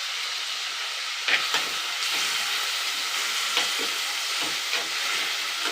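Onion, tomato, green chili and curry leaves sizzle steadily in a pan, a constant bright hiss with occasional soft stirring scrapes, close and even throughout with no talk.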